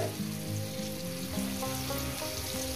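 Potato pieces fry in a pan for a vegetarian drumstick and potato posto dish, giving a steady, close sizzle with soft crackle that runs unbroken through the whole short stretch.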